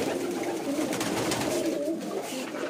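Pigeons coo softly in a breeding loft full of paired birds with eggs and chicks, a steady murmur of low cooing and rustling throughout, with no clear speech.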